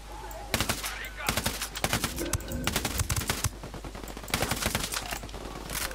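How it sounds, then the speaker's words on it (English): Rapid bursts of automatic gunfire from the video game Ghost Recon Wildlands, loud and close, repeating in clustered volleys across the whole span, with a voice talking between and over the shots. "Can't even see what I'm shooting at."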